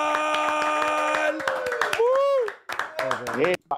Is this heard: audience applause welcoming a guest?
yes